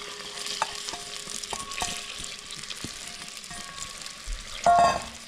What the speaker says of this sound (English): our butter is almost completely melted. Now we're going to add the onions and the shallots